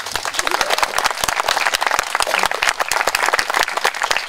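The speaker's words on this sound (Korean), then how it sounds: "박수 한번 부탁드리겠습니다." Applause from a gathered audience at a monthly community meeting in Sejong, with individual claps standing out in a lively, uneven rhythm that stays fairly close and even throughout.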